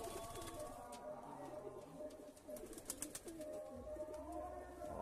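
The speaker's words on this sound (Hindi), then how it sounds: "ये भी फ्लाई लाइन का कबूतर है भाई, बहुत बढ़िया फ्लाई लाइन का कबूतर है।" Soft, faint cooing of Madras high-flying fly-line pigeons, low throaty calls repeating over a steady outdoor background, with some nearby chatter.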